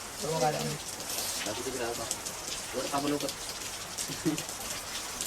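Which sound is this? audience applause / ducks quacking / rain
rain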